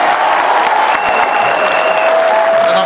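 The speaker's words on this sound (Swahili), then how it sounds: "tusindikize Wajakoya na makofi." A seated audience claps steadily and densely for Wajakoya, a full, close wash of applause lasting the whole stretch, with a thin sustained tone running faintly beneath.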